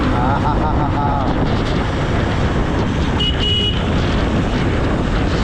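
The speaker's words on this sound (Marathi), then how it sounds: "आता खऱ्या अर्थाने बाईक राईड चालू झालेली आहे आपली जबरदस्त अशी" Steady, loud broadband rumble of a motorcycle cruising on a road through Malshej Ghat in the monsoon, with wind buffeting the microphone throughout and no clear breaks.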